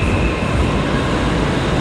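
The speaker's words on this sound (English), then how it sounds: "This will also be my first ride on one of Hitachi's Class 385 AMUs." Hitachi Class 385 electric multiple unit, a six-coach train running as the 15:20 to Lanark, heard as a steady, loud, close rumble of running noise with no voices.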